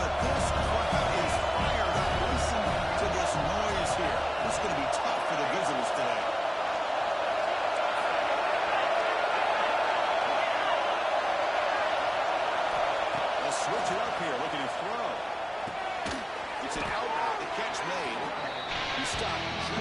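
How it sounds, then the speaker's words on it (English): A fired-up football stadium crowd roars in a continuous, loud wash of cheering and noise for the whole stretch, with a commentator's voice running on top of it. "It's early, but this crowd is fired up. Listen to this noise here."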